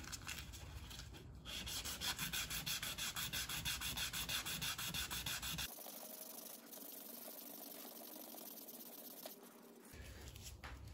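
Sandpaper of 220 grit rubs by hand across a gloss black powder-coated truck wheel in a continuous, steady scratching with brief shifts in stroke, close up and alone.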